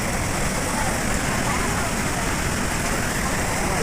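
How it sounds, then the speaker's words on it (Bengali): Strong current of water rushing down a mountain stream near Mana village, a dense, continuous roar filling the whole clip at close range with no pauses. "প্রচণ্ড স্রোতে জল নেমে আসছে"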